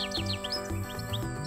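Cartoon bird chirps in a French animated doll story, a few quick bright tweets repeating over a steady music bed, fairly loud and close.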